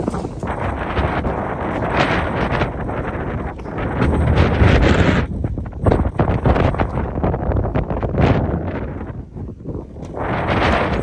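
Strong wind gusts through a Pashtun village in Pakistan during a dust storm, roaring and buffeting the microphone in a steady loud rush that swells and eases, with no voices.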